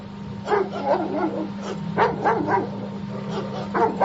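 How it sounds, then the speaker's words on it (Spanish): A frightened, at times angry dog barks in repeated bursts, sounding fairly close over a steady low hum, with a few separate yelps and barks spaced across the stretch. "Podían escuchar a este perro que ladraba asustado, por momentos como enojado, como atacando a alguien."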